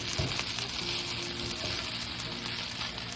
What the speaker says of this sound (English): Just stir the egg around real quick.